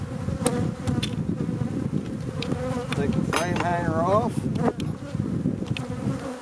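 Honeybees swarm thickly around an open hive box that a beekeeper is reassembling, their dense, close buzzing continuous throughout. Someone speaks briefly over the drone, and some scraping and handling noises come through.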